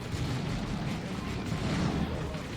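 Lascannon fire in the Dawn of War 2 real-time strategy game during a 3v3 match, a dense, continuous barrage of booming shots and explosions with no gaps, loud throughout.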